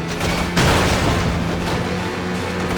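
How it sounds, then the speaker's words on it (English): A single sudden explosion booms in the PS3 stunt-driving game Stuntman Ignition, a loud broadband blast erupting over steady engine and game noise and then trailing into rumble. "Close to the explosion"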